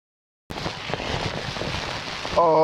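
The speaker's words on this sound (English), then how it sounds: "Oh, it's a storm hitting." A passing storm over a fishing spot, with a steady roar of heavy rain and crackling bursts that fit distant thunder, loud and continuous after a silent start, with a tonal hum entering near the end.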